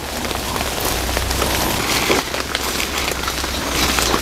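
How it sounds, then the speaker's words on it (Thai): Steady rain patters on leaves and ground beside a forest stream during a mushroom-foraging outing in Thailand, a dense, continuous hiss close by with no voices. "ฝนตกครับ"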